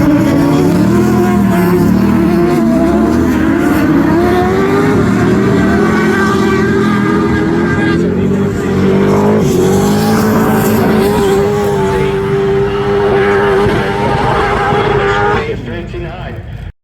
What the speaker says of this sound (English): the engines rev